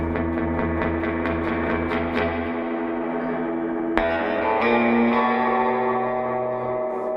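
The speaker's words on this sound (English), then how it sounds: "we're going to move the reverb all the way up." Strummed electric guitar chords ring through a Sweet Blackberry amp with reverb turned all the way up, a bright swelling surf-style tail washing out after each attack, loud and alone.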